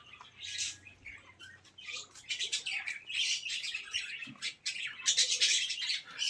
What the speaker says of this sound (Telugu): ఏమో పచ్చ చిలుకలు